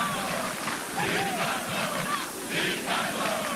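Football supporters roar and chant together inside Joaquim Américo stadium before an Atlético Paranaense match in 1996, a dense, continuous crowd din with swelling shouts, heard from a distance.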